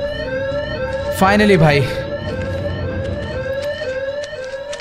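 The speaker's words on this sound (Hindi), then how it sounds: "अलार्म बज गया" An electronic alarm in the horror video game Evil Nun rings in a steady, repeating pulse throughout, with someone talking excitedly over it midway.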